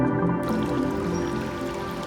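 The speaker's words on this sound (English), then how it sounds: "There really is there's a stream inside." A small stream runs through the inside of a green building like a botanical garden, giving a steady, close trickle and drip of water that fills the space without pause.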